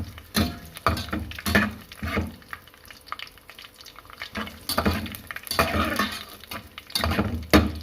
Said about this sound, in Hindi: अब हम इसमें डालेंगे सौंफ और नारियल और हम हल्का सा इसको फ्राई कर लेंगे